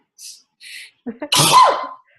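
A single loud sneeze, preceded by a couple of quick sharp inhalations, close to the listener and otherwise quiet.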